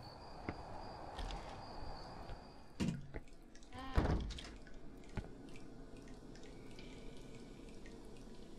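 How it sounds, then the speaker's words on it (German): Water drips one drop at a time into buckets in the horror game Song of Horror, forming sparse, quiet plinks over a steady ambient hum, with a couple of louder splashy hits in the middle. "Die Eimer wurden Tropfen für Tropfen bis zum Überlaufen gefüllt."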